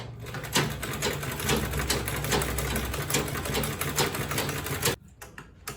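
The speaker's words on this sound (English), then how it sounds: "I'm going to backstitch again." A sewing machine stitching and backstitching a quilted tote bag with boxed corners, a fast close mechanical rattle running steadily for about five seconds before stopping abruptly.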